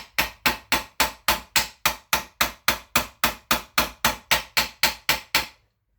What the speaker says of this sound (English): you could also use a drift and hit it with a hammer